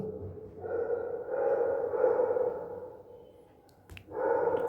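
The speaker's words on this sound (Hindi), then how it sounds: "अरे डॉगी भौंकने का नहीं" A dog barks and growls in bursts nearby, pausing briefly before starting again.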